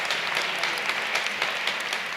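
Continuous applause from a luncheon audience, a thick, even wash of many hands clapping with no gaps and no voices on top.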